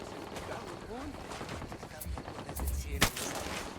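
Rifle gunfire crackles in a Ghost Recon mountain-road ambush, with rapid shots and a sharper close burst near the end, mixed with faint voices and game noise.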